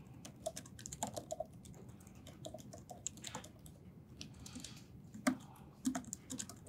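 Fast typing on a computer keyboard while setting up a Next.js coding project, an irregular run of close, light key clicks with small pauses and a few sharper taps.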